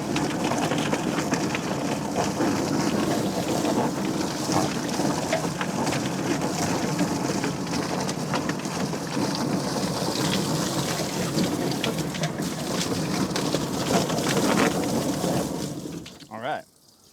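A hose sprays water steadily onto chickens tumbling in a mechanical plucker, a dense hiss like heavy rain with a low churning rumble underneath, near and continuous before cutting off with a brief clatter at the end.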